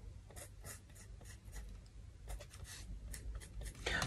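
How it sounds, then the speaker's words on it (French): Pencil tracing a line on paper to mark a ribbon position for a handmade album, with a series of soft, close scratching strokes in short bursts over quiet background. "Je vais faire la trace en fait de mon ruban"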